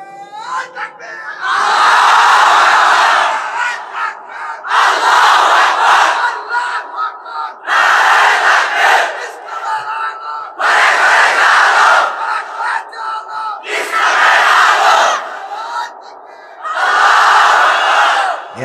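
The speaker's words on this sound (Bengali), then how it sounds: "তুমি আরেকবার তাকবীর দাও, দাও তাকবীর দাও একটা।" A large crowd at a Bangladeshi religious sermon shouts takbir in repeated loud collective bursts, each swell of many voices lasting a couple of seconds with brief pauses between them.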